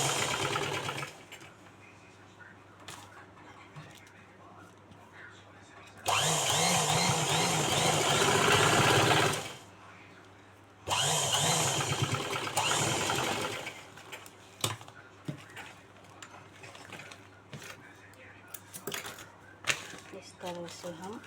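A sewing machine stitches a handbag made from a plastic sack, running in two loud sustained bursts of rapid mechanical whirring and clatter, with a person talking in the quieter stretches around them.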